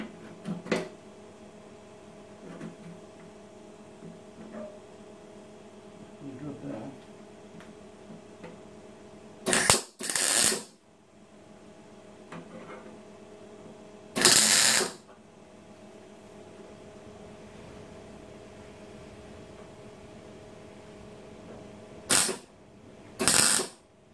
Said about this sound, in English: I'm just going to tack weld it in first.